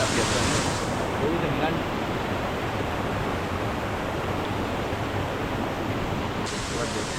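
Water from Bambarakanda waterfall rushes past as a stream, a steady, loud broadband roar filling the whole clip without pause and with no voices.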